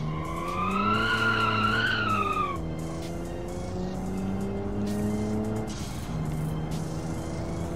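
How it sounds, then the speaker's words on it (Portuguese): Small truck in the Automation driving game accelerating hard from a standstill, its engine revving up through rising harmonics with a sharp tire squeal at the start, then settling into a steadier drone after a gear change; no speech. "faz o caminhãozinho sair cantando pneu,"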